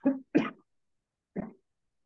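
Three short throaty bursts, two close together and one after a pause, sound like coughs or throat clearing from a nearby person in a quiet room.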